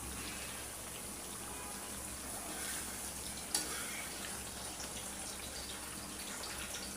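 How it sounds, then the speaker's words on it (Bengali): Potatoes frying in oil together with beef liver, a steady soft sizzle and bubbling hiss held at a constant level throughout, with one brief clink of a utensil midway. "এখন আমি কলিজার মধ্যে আলু ভাজিয়ে দিয়ে দেব।"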